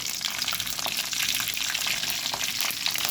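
Mustard seeds, cumin and dried red chillies fry in hot oil, giving a steady, close crackling sizzle with dense spattering pops that keep up through the whole stretch without a break.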